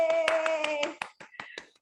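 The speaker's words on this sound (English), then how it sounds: "so keep clapping" Attendees of an online Toastmasters club meeting clap in a short burst of sharp, close hand claps that thin out into a few scattered claps, with a steady tone and a faint voice under the first half.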